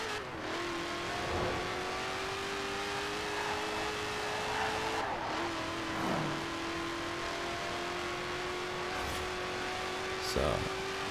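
A drag car's engine in Forza Horizon 4 drones continuously with steady, rising tones and brief gear-change dips, heard close and loud throughout with a person talking over it.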